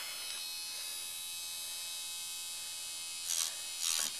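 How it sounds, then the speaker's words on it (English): A Pedipaws electric nail grinder works on a dog's nails, giving a close, continuous high-pitched motor whine with rich harmonics, punctuated near the end by two brief louder grinding bursts as it touches the nail. "use the Pedipaws or an electric nail grinder, because he didn't seem to mind it at all"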